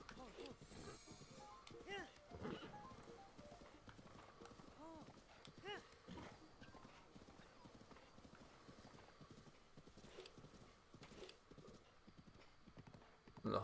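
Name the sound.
horse hooves clip-clopping in Breath of the Wild video game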